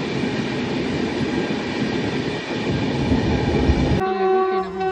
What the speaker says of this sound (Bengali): একদম রাইট টাইমে কিন্তু বর্ধমান ঢুকছে ট্রেন